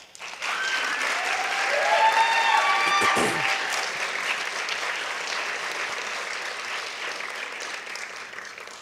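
Sustained applause from an awards ceremony audience, steady and dense for the whole stretch, rising slightly early on and then holding at a lively level.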